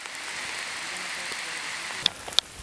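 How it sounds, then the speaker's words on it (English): Light rain falls steadily at the amphitheater at Eraclea in Sicily, a soft continuous outdoor hiss with a couple of sharp drip ticks near the end and no voices. "We're standing here in the rain."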